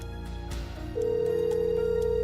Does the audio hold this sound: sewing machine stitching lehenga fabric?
no